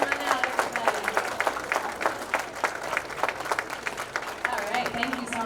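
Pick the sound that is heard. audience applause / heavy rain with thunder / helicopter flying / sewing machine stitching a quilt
audience applause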